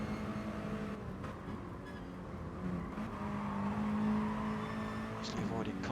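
Mini race cars run at full speed through the S bends at the Nürburgring GP circuit, engines droning and rising in pitch as they pass, under a commentator's voice.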